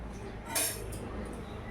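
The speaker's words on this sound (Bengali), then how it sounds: "ঢাকাটা খুলে তোমাদের দেখাচ্ছি।" A lid comes off a pot of freshly cooked egg biryani with a single bright metallic clink, followed by a few faint light taps against a quiet kitchen background.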